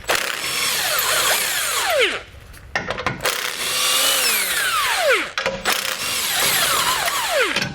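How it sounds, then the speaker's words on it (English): Power tool work on a 2016 GMC Sierra truck frame, pulling three bolts from a mounting plate with a 15mm socket; loud whirring bursts with rising and falling pitch sweeps, broken by two short pauses. "We're going to remove those, so we can grab a 15mm socket and pull those out."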